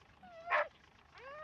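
Dog whimpering in the film An American Werewolf in London: two soft, high whines with a brief sharper yelp between them, faint and close.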